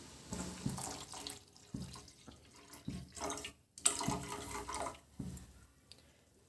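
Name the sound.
water poured into a cooking pot for tea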